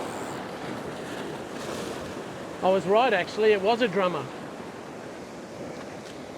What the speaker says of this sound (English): Just watching those waves